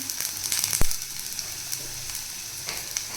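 Onion, garlic and ginger fry in hot oil with a steady sizzle and crackle, one sharp stir or clatter near the start, close and fairly loud, no voices.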